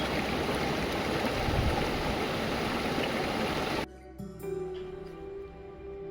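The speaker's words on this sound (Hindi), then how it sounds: "ऊपर से गिरता हुआ पानी जो नीचे नहीं पहुंच रहा था" A waterfall's falling water rushes and splashes in a steady roar for several seconds, then cuts abruptly to a much quieter outdoor scene.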